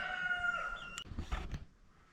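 Frightened chickens and big roosters clucking and calling close by, with a sustained crowing-like call at the start followed by a few short squawks and scuffling thumps as the birds move.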